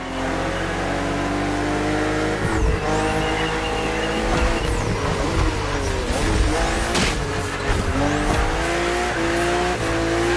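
BMW race cars in The Crew Motorfest tear along a narrow, twisting track, their engines revving loudly with rising and falling pitch while tyres squeal and skid through sharp bends.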